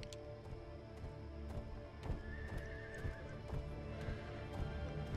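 Horses whinny and neigh over a steady clatter of hooves in the video game LEGO The Hobbit, with ticking clicks scattered throughout, loud and continuous.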